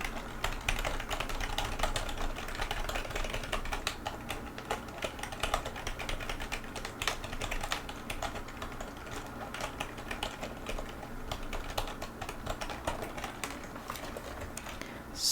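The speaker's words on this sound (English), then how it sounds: "I'm gonna also incorporate keyboard sounds." Rapid, continuous typing on a computer keyboard, dense clattering keystrokes at a steady moderate level throughout, with no talking.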